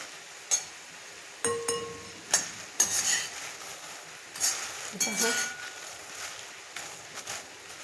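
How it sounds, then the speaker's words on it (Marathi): Sun-dried red chillies dry-roasting in a pan for homemade onion-garlic masala, with scattered sharp clinks and taps of a utensil against the pan at irregular intervals, fairly quiet and close. "सर्व मिरच्या आपण अशाच भाजून घेणार आहे."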